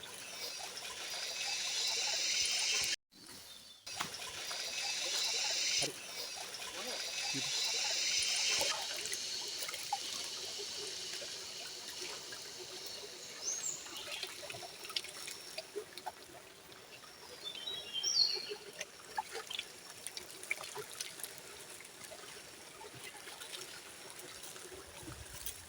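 Cold, clear mountain stream water trickles and splashes steadily at close range, with a brief interruption early on and faint background voices later.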